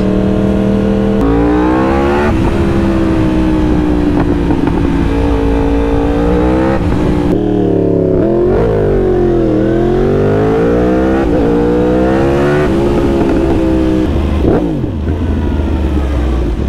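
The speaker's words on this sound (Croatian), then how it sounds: "Uvijek se motor izvanka čuje duplo brutalnije nego da ga voziš" A loud motorcycle engine revs up and down repeatedly nearby, heard from outside in Thailand, its pitch climbing and falling in rising sweeps, with no talking.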